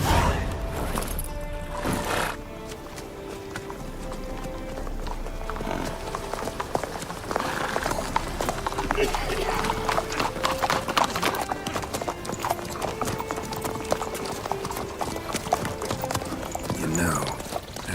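Horse hooves clip-clop in The Witcher 3, a steady near rhythm of hoofbeats running throughout with game music and an occasional whinny behind them.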